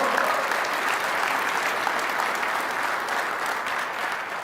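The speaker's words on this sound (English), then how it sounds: "Let's give Skylar a round of applause." An audience gives a round of applause for a nurse at an award announcement, a steady dense wash of many hands clapping at a fairly even level throughout.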